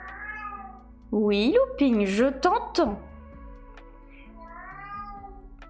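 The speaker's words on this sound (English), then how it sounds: "I don't know if you can hear my cat meowing" A pet cat meows loudly and close by, several drawn-out meows in quick succession, with a person speaking softly before and after.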